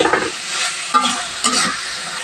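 Chickpeas stir-fried with a thick spice masala in a pan give soft close sizzling, with a few distinct scraping strokes of a spoon through the mix, no speech.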